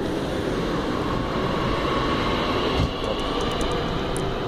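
A Z 50000 electric commuter train rumbles loudly and steadily as it departs, heard from close by, with a few faint high squeals near the end and no talking.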